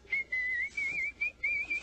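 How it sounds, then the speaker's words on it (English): A cartoon character whistles a bright, lilting tune in short phrases with brief gaps, clear and alone. "While you were just standing there whistling"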